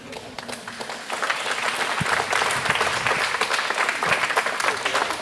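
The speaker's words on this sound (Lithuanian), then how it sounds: "Iš mandagumo to ploja žmonės" A comedy-show audience claps politely after a joke, a steady wash of applause that swells after a second and holds, with a voice heard faintly over it.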